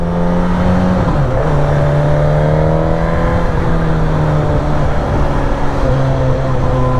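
A Suzuki GSX-S 950 four-cylinder motorcycle accelerating hard in first gear, a loud continuous engine whine climbing in pitch with a brief dip near one second, heard up close over constant wind rush.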